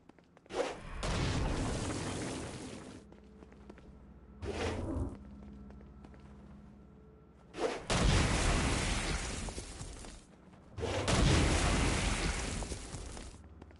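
Blast power striking demons in Saints Row: Gat out of Hell, loud whooshing bursts with booming impacts, four separate blasts with quieter gaps between them.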